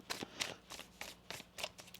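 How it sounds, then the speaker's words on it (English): A deck of tarot cards being shuffled close up, several quick riffling bursts in a loose rhythm, quiet and alone. "One more shuffle."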